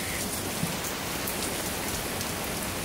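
Heavy rain from Hurricane Harvey pours down in a steady, dense hiss of drops hitting surfaces, continuous and close with no voices.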